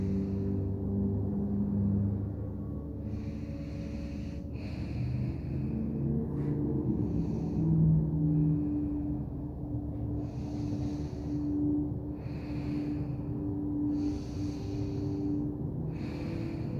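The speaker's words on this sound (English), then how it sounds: "Make sure you hear your breath and make sure your breath is connected with the movement." Rhythmic breathing during a yoga flow, audible inhales and exhales matched to arm movements, repeating steadily at close range with no talking over it.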